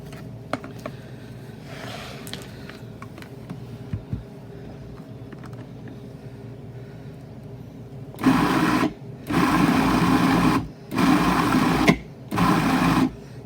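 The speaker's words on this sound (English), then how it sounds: "we're going to use the pulse feature so that we get some good control over how long it processes" Food processor pulsing as it chops chipped beef for a cheeseball dip, four loud bursts of whirring motor separated by short pauses, after a quieter stretch of low kitchen background.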